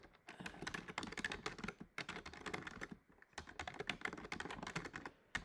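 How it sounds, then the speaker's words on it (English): Fingers type on a computer keyboard in fast, dense bursts of clicky keystrokes, close up, with short pauses between runs and no speech. "So if I'm typing"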